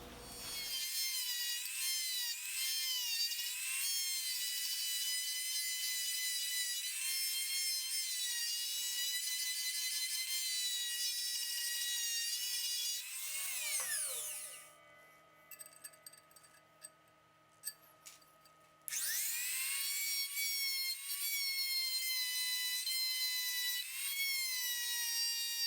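A rotary tool grinds holes in a chipmunk banjo, a steady high-pitched whine that runs continuously, dips briefly into scraping bursts midway, then returns at full speed, close and loud with no talking.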